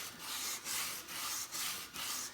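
Rhythmic rubbing strokes scour corrosion and pitting off an old crusty wheel rim with polish, five or six even back-and-forth passes, close and moderately quiet.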